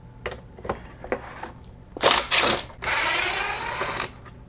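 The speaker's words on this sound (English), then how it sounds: "going to use my impact driver here to take those out" An impact driver removing bolts from a Homelite MightyLite 26b leaf blower, with a few light clicks and handling taps followed by short, buzzy bursts of hammering rotation and one longer run, close by.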